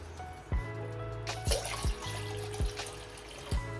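Plain water pours and trickles into a glass for lemon shikanji, with a few soft clinks and knocks breaking the steady splashing.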